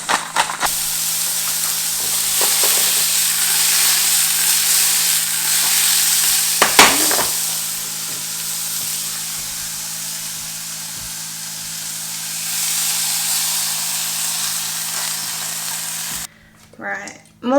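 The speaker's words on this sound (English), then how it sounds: "So on a medium-high heat, add the mushies." Mushrooms sizzle and fry in a tablespoon of oil in a pan over medium-high heat, a steady broadband hiss with brief stirring knocks, fading toward the end.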